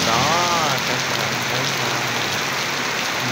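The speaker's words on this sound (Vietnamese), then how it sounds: "Mưa buồn quá, mưa lớn quá, đám mưa." Heavy afternoon rain pouring down outdoors on a street, a dense unbroken hiss of drops hitting surfaces, loud and steady throughout.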